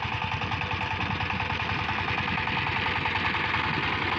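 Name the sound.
power tiller engine ploughing a field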